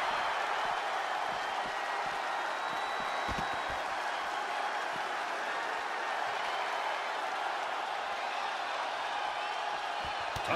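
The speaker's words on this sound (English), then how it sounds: "The roar of this crowd has been building" Crowd noise from a WWE 2K20 wrestling match on 205 Live, a dense, steady arena roar that holds at full level throughout, with scattered thumps from the ring inside it.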